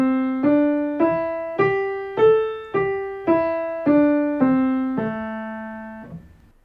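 A minor pentatonic scale of eight clean, sustained pitched notes, evenly spaced, climbing and then descending, each struck note ringing and decaying alone at moderate loudness.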